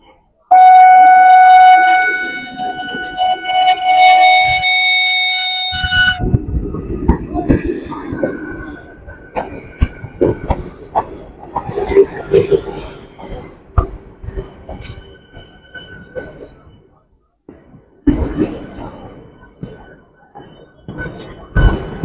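An AC local train pulling into platform 3 on the Krishnanagar to Sealdah line: a loud sustained horn blast opens, then heavy rumbling and clattering of the arriving carriages, with a second horn-like tone near the end.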